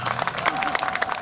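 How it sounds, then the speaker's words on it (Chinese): An audience at a live concert in Taiwan claps loudly in a dense, continuous patter of many hands, with crowd noise mixed in, over a brief moment. "想拍手就用力拍手啦"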